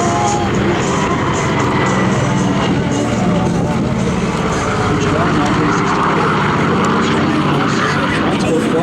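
A DHC-4 Caribou twin propeller transport aircraft flying a display at an airshow, its steady droning engines loud and continuous throughout while a commentator talks over it.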